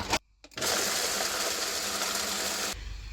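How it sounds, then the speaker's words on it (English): A high-power blender whirs steadily and loudly with cacao and goji berries inside, kicking in after a brief sputter and running for about two seconds before cutting off. "you're going to need a high power blender"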